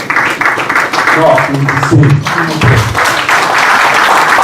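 A crowd claps in a dense, continuous wash of applause, with a few voices audible within it.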